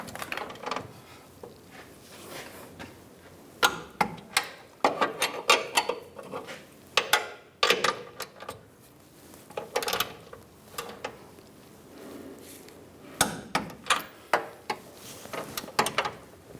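Metal ratcheting and clinking of a torque wrench tightening bracket nuts on a 1999-2006 Chevrolet Silverado 1500 rear bumper, close up, in irregular bursts of clicks and clanks with quiet gaps and no talk.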